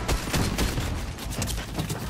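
Rapid gunfire in an action video game with new weapons, dense and continuous bursts layered over each other for the whole stretch, loud and close with no talking.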